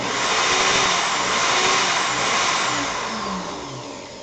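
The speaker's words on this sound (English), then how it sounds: "now I'm going to put my drill in reverse and loosen up this Clapton" A power drill runs steadily in reverse, loosening a clamp on a triple interlock enigma puzzle build, with a continuous close motor whine throughout and no talking.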